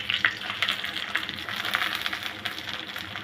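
Chopped onions with whole spices (cinnamon, cardamom, cloves, peppercorns, bay leaf) sizzling in hot oil for a beef and pointed gourd curry, a steady close crackle with light stirring clicks throughout.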